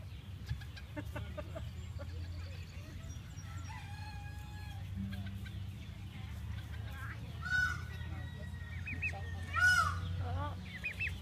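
A big turkey calls out with a series of short, rising and falling cries, close and fairly clear over a low steady background hum.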